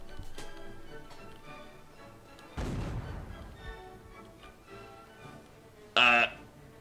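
An artillery cannon fires once in Mount & Blade: Napoleonic Wars, a single dull boom at moderate distance, with quiet ticking background sounds and occasional talk.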